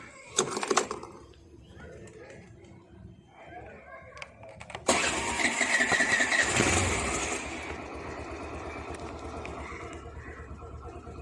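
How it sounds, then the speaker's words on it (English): A Suzuki Avenis 125 scooter's engine cranks and fires up around the midpoint, settling into a steady near idle after some quieter handling noises at the start. "let's start the vehicle"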